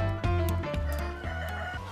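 Flock of chickens on a free-range egg farm clucking busily up close, with a rooster's crowing mixed into the loud, layered calls and no talking.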